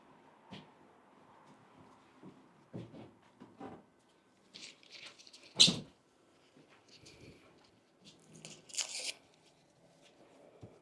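Cheap dollar-store tape being handled while making art for an exhibition: scattered crinkles and rustles, a sharp tearing snap midway and another burst near the end, close and quiet between.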